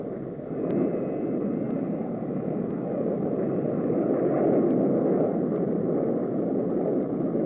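Ryan Firebee BQM-34A jet target drone flying at near sonic speed, a steady loud broadband jet roar that holds constant throughout with no voices.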